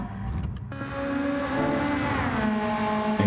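A 1984 Nissan Skyline Super Silhouette race car engine in Gran Turismo 7 hums steadily and rises in pitch as it revs up, loud and continuous with a sharp burst near the end.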